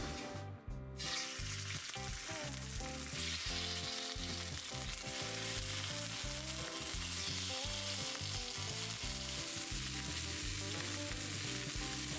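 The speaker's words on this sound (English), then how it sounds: "just pan fry them with no seasonings or anything" Four duck breasts pan-fried without seasoning sizzle and crackle steadily in a hot pan, a loud continuous fry with occasional stirring, no voices.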